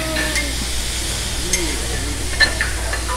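Meat and prawns frying on a hotel buffet grill in the Dominican Republic, a steady soft sizzle with occasional sharper crackles and hisses, mixed with faint background restaurant chatter.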